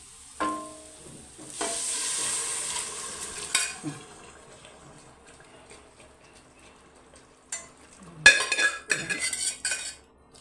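Cooked pork goes into a pan for a Kerala-style pork curry, with a soft sizzle under metal spoon scrapes and clinks against the pan as it is stirred, close by.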